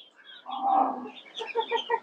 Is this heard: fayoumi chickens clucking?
yes